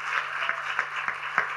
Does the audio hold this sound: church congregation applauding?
yes